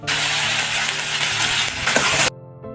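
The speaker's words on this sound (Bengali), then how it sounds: "এবারে মশলাটাকে ভালোভাবে নেড়েচেড়ে ভেজে নেব" Spice paste with nigella seeds sizzles loudly in a hot pan as it is stirred, a dense continuous frying hiss that cuts off sharply near the end, leaving faint clinks.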